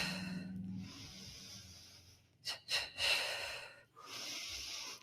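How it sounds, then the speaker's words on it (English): Heavy recovery breathing after a steel mace workout: sharp nasal inhales and long, airy exhales in a slow rhythm, close and fairly loud, with no talking. "Inhale through nose, exhale."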